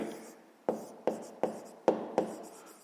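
Pen or chalk marks written out for a grade-5 maths solution, a sequence of five or six sharp tapping strokes with short scratchy tails, close and fairly quiet, no voices over them.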